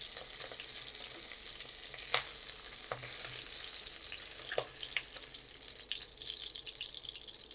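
Pabda fish sizzle steadily in hot oil in a pan, a bright continuous crackle with a few sharp clinks of a utensil against the pan, heard close with no voices.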